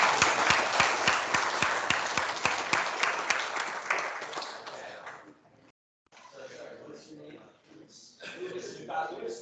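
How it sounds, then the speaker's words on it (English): Audience at an event gives a burst of dense applause that tapers off after several seconds, followed by quieter crowd murmur with scattered chuckles and voices. "give me a round of applause"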